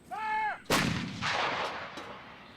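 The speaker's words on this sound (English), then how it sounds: "Reservists are spending the early part of the afternoon working with artillery as they prepare to go into mock battle." Artillery guns of a Canadian field battery fire during a military training exercise: a single sharp, loud blast followed by a long rolling boom that fades away, preceded by a brief high whine.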